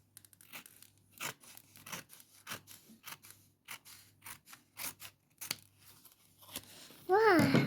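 Scissors snipping through a mail package, a string of short separate cuts at an irregular rhythm, close and fairly quiet, with a voice breaking in at the end.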